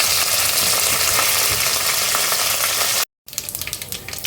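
Loud, steady sizzling of a tempering in hot oil with dry chilli, chana dal, cumin, mustard seeds and curry leaves for a cluster bean coconut curry, with a brief break and then stirring crackles.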